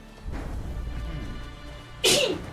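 A single sharp, loud sneeze bursts out near the end, preceded by quiet background noise and a soft breath.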